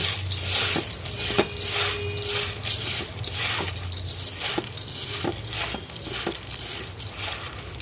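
Puffed rice mixed by hand with mustard oil gives a continuous crisp crunching and rustling, with light irregular crackles and occasional soft knocks against the bowl, close up and without talk.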